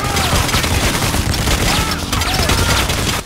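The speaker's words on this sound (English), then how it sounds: "Stop shooting at me!" Heavy gunfire erupts during a police assault in the video game Payday The Heist, dense overlapping bursts of shots and booms filling the scene loudly and continuously before cutting off abruptly.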